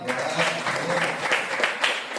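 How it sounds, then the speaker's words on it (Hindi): Church congregation at a Sunday service clapping steadily and fairly loudly throughout a brief burst of applause, with no talk over it. "एक ताली बजाइए यार।"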